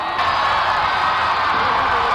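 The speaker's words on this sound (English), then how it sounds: "The crowd is going wild." A large outdoor crowd cheers and shouts for Obama as he steps out of his car, a dense, loud, sustained roar of whoops with voices blended throughout.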